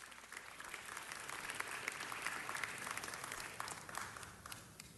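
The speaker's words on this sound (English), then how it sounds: "Let's give Captain Snell a round of applause." Faint, steady applause fills a city council chamber as attendees honor a police captain, a distant crowd clapping continuously at low volume.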